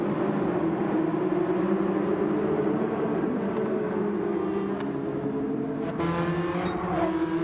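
Race cars at the Nurburgring GP circuit run in a steady, loud engine drone with shifting pitch, engine notes layered and sustained throughout, a brief sharper burst near the end.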